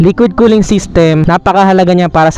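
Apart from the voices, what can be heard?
No distinct noise like a dog, phone or traffic.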